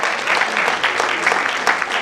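Brief burst of audience applause at a wedding gathering as a car key is presented, dense clapping filling the room at steady loudness for about two seconds.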